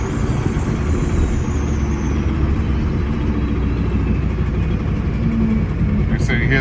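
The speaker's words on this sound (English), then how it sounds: "Here is shift through all the gears at 50 miles an hour." A 2001 Ford E450 cutaway flatbed with a 7.3 Power Stroke diesel drones steadily from inside the cab while shifting through the gears at 50 mph, a loud, continuous engine and road rumble.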